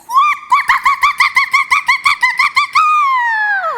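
A woman vocally imitating a hen's noisy cackle after laying an egg, a rapid run of loud, rhythmic squawks ending in one long drawn-out falling cry, with no other voices.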